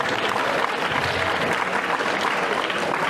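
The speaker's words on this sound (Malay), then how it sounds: "Ucapan terima kasih, tepuk tangan untuk kamu." Audience applause at an Islamic religious talk in Malaysia, a steady dense patter of clapping that holds at an even level throughout, with no voices above it.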